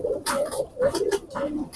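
Teddy pigeon, a red-legged breed, cooing in a series of close, clear low coos with short pauses between them, no voices over it.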